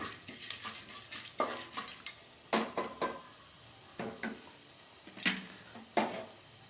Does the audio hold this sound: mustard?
yes